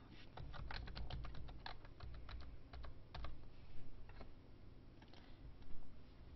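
Steady typing on a computer keyboard while entering a login password, with rapid uneven clicking keystrokes running continuously at close range over a low background hum.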